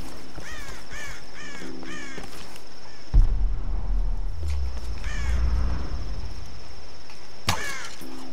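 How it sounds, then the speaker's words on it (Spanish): Crows cawing in the video game Tomb Raider 2013, repeated harsh calls in bursts over a steady hum, with a low rumbling thud midway and a sharp crack near the end. "¡Pajaritos!"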